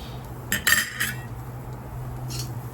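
Metal tool scraping grilled meat loose on a charcoal grill, a few quick scratchy scrapes and clinks over a steady low hum, then a softer scrape near the end.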